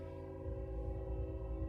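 A passing train sounds its horn in a sustained, steady multi-tone blast at moderate distance, with a low rumbling beat from the rails underneath.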